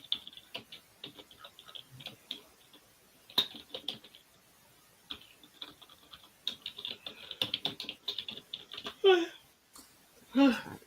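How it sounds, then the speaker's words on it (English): Quiet, irregular clicking of typing on a computer keyboard nearby, with a couple of brief louder sounds near the end. "I can't type. I got my fingers on the wrong keyboard."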